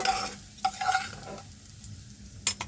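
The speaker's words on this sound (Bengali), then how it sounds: "একটু হালকা বাদামি করে ভাজতে হবে পেঁয়াজগুলো" Onions frying until light brown in a pan for a rohu fish dish: a sizzle with repeated utensil stirring scrapes and clatter in bursts, and quieter gaps between them.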